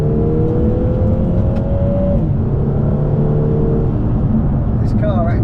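A Lotus Emira 2.0 I4 sports car drives and accelerates, with a steady, loud engine drone and shifting engine pitch, heard from inside the car while a voice speaks over it.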